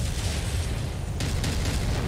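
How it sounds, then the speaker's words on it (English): Explosions in the mech combat game MechWarrior 5 make a continuous low rumbling roar, heavy bass booms rolling under a dense noisy wash, with a couple of sharper bursts hitting partway through and no speech over them. "Why do all the explosions target my face?"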